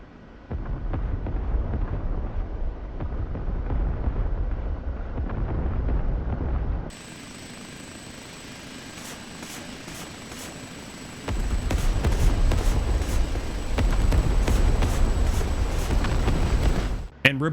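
Rockets fired from an OH-58D Kiowa Warrior helicopter in DCS World boom and rumble in heavy repeated blasts, a quieter cockpit hum between volleys.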